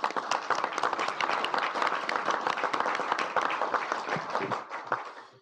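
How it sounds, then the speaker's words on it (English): Council meeting applause for departing Dr. Yeager, a busy spell of clapping from a room of people, fairly close and lively, fading out over the last half second. "So if we give her another round of applause."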